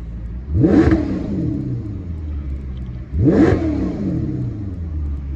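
A Maserati GranTurismo S engine is revved twice while stationary, each a loud, close rising roar that falls back to a steady idle rumble between the blips.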